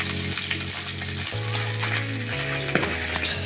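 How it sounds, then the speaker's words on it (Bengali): Mashed fish fries in a pan, a soft steady sizzle close by over a low droning hum, with a few small clinks near the end. "ওই মাছটা গুঁড়িয়ে ভেজে নিলাম"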